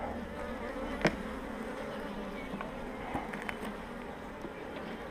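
Honeybees buzzing steadily at an open beehive during a colony expansion, a close continuous drone with occasional faint clicks and knocks from handling the frames.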